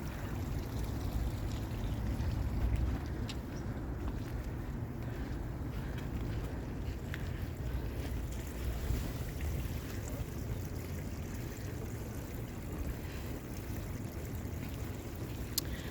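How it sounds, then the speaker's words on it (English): A small city brook in Halifax in January, partly freezing over, flows with a steady, soft rushing wash that continues throughout, mixed with gusty outdoor wind noise and no talk. "so the little brook here is kind of freezing over, starting to."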